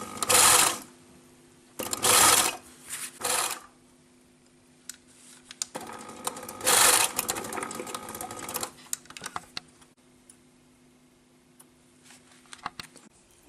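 A sewing machine stitches fabric a short distance from the edge, running in several short bursts separated by pauses, with quieter handling and clicking sounds in between.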